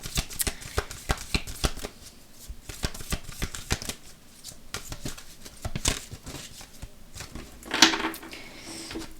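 Oracle cards being shuffled by hand in a run of quick, crisp riffling and slapping bursts, close and fairly loud, with no talking.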